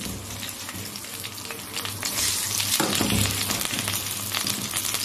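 Rice dropped into a hot pot sizzles and fries steadily, a dense crackling hiss that swells louder midway as the grains hit the hot fat and keeps going.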